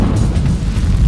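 A demolition explosion bringing down a steel and concrete building, heard as a loud, dense low-frequency boom and rumble that fills the whole moment without pause.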